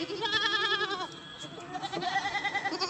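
Goat bleating loudly at close range, with two long wavering calls, the second following a brief pause, against light outdoor background noise.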